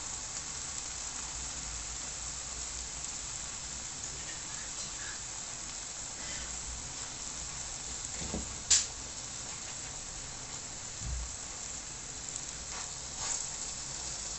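Msemen and mhajeb, Moroccan flatbreads, fry in oil with a steady, fairly quiet sizzle and hiss, broken by a couple of brief clicks or taps partway through; no one speaks.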